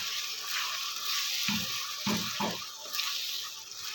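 Spice masala with whisked yogurt sautés in a pan for a chicken bhorta, a continuous moist sizzle with a few low stirring scrapes near the middle, close and moderate.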